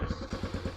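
A motorcycle engine just started after a fuel-starved carburetor problem, idling in a quick, regular chugging pulse of low thumps, close and fairly loud.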